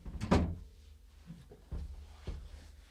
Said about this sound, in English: Just shut the door, because my wife might walk by.